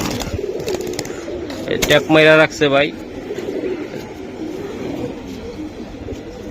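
Pigeons held up for sale give a brief burst of throaty cooing amid a man's close, loud chatter and background bustle.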